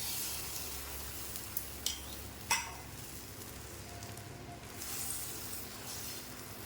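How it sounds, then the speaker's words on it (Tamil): Egg omelette batter spreading over an oiled pan at a street-style stall, a steady soft sizzle and hiss throughout, with a few faint clinks of a ladle against the pan, close and moderately quiet with no voices. "இப்போ ஆம்லேட் போட்டுறேன்"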